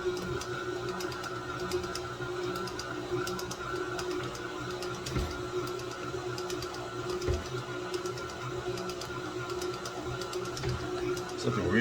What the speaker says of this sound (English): I like this mixer